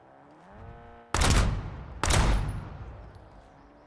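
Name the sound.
hand cannon gunfire in the video game Warzone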